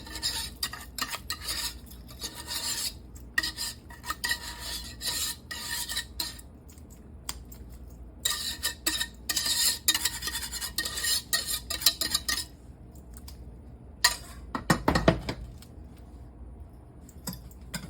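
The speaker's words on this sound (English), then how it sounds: "Then you want to spread this sauce." Bechamel sauce is spread over a Greek lasagna with a spoon, giving a steady, close scraping and smearing against the dish, with clinks of cutlery and a brief louder clatter near the end.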